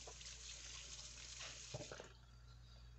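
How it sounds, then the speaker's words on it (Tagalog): Kamias (cucumber tree fruit) being washed in a bowl of water gives a steady, soft watery splashing and trickling, with a brief burst of sloshing near the middle. No one speaks. "ilalagay natin siya sa mangkok at hugasan ulit"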